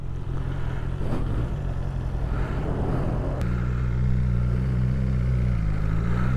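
A BMW S1000R Sport motorcycle engine revs hard up close, a steady loud roar with a sharp quick-shifter change partway through before the note carries on at a new pitch.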